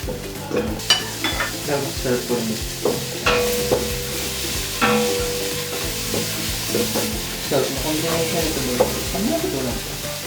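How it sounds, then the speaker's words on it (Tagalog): Garlic frying in oil until brown for monggo, a close, steady sizzle with frequent spatula scrapes and knocks against the pan. "Lagi nyo uunahin yung bawang para maluto siya. Hintayin nyo mag-brown."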